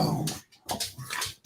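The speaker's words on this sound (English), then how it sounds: "Fucking dog's attacking me." A dog whimpers and yips in short broken bursts while attacking and chewing on a leg, close by, with brief gaps between the cries.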